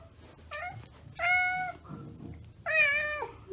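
A pet cat meows three times in separate drawn-out cries, the last loudest and longest, with quiet gaps between them.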